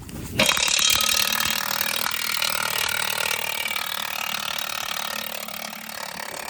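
A ratchet wrench works on rusted bolts during farm equipment repair, a loud steady grinding mechanical clatter that holds for several seconds after a sudden start.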